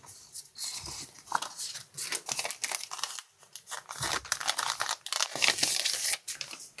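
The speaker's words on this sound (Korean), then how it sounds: "그 다음에 남은 부분을 세밀하게 잘라줄게요" Scissors cutting stickers for diary decorating, heard as close, quiet snips mixed with crinkling paper rustles and soft crackles in an irregular rhythm.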